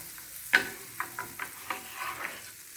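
Paneer tikka frying in butter on a hot non-stick tawa, a soft steady sizzle broken by a sharp clink near the start and several lighter taps and scrapes spaced through the short stretch.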